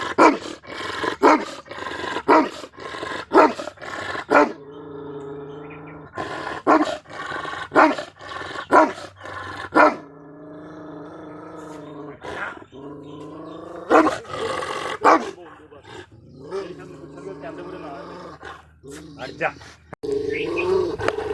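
An aggressive Pakistani Bully dog gives repeated loud, close barks and deep growls in bursts, interleaved with stretches of someone talking.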